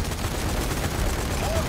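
Gunfire in the video game Zombie Army 4: Dead War forms a dense, loud, continuous barrage of rapid shots across the whole moment.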